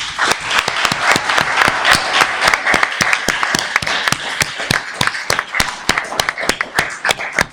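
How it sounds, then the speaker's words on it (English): Audience at a school Brexit debate in 2016 applauds as the host is introduced, sustained close clapping with sharp individual claps standing out throughout. "give him a round of applause"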